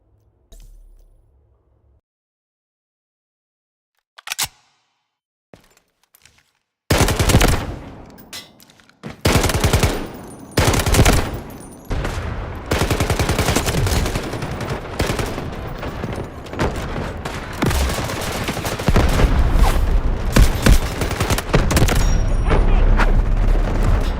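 MK47 rifle in the Delta Force video game firing at a firing range: a few isolated shots, then sustained loud bursts of rapid automatic gunfire with booming reports, continuous and close.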